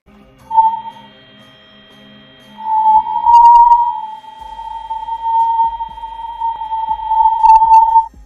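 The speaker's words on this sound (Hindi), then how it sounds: "यह तीसरी ऑडियो हाई चार्ज पार्टिकल में होने वाले बदलाव की आवाज है।" A sonified recording of the sun's high-charge particles gives a sustained, loud, pure whistling tone that holds steady for several seconds after a brief opening whistle, with faint pulsing bleeps over it.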